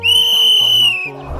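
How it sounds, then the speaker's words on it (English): A single loud whistle blast, one long high steady tone held for about a second before cutting off, followed by a low rumble. "remember to blow your whistle"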